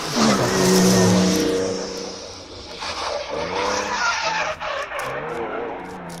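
A drift car revs hard and its tires squeal in a long skid, then the engine note wavers and sags as it loses power, loud and close at an outdoor drift event.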